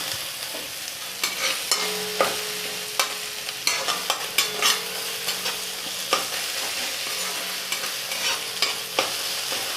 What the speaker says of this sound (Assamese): আৰু এতিয়া ভালদৰে লৰাই দিছোঁ। গেছৰ ফ্লেমটো মই একেবাৰে হাই কৰি দিছোঁ।